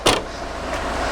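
Nissan Bluebird exhaust fitted with a Toyota AE86 back box, slightly modified to fit, giving a steady low bassy drone with a brief louder burst at the start, close and not overly loud.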